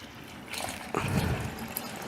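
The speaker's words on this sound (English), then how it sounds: "I put water in here and water in here and of course in here as well." Water poured into a potted plant and its attached saucer or tray, a short trickling splash that swells after a second and runs on steadily for about a second more, close and alone.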